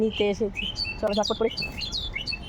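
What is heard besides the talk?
birds chirping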